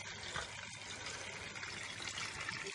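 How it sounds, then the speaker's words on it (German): Cold tap water running into a pot of handspun wool, a faint, continuous rushing splash that holds steady throughout with no talk. "jetzt kaltes Wasser rein."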